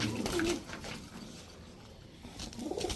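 Soft, rolling coos from male high-flyer Giribaj pigeons, close by, heard at the start and again at the end with quieter background rustle between.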